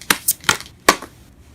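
Tarot cards riffled in a few quick bursts, close and crisp, each flurry a short papery rush with brief pauses between, no voices.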